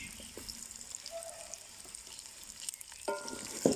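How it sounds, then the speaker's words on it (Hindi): Onions frying in a pan for a Hyderabadi potato and cabbage dish, a soft steady sizzle with occasional stirring scrapes, growing louder near the end. "इनको भी अच्छी तरह भून लेंगे साथ।"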